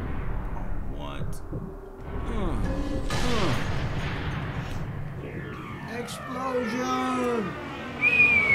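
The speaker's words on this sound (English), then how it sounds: "Explosion!" In the video game Sniper Elite III, a sudden blast bursts out midway through scattered gunfire and low rumbling, with someone talking excitedly before and after it.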